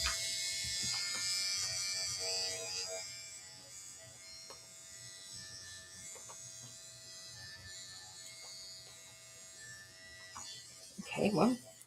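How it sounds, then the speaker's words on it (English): An electric seam ripper buzzes steadily and close by for most of the clip, at a fairly loud level, and fades near the end. A short louder burst follows, with a voice briefly in the background. "I have an electric seam ripper. I'm going to use it."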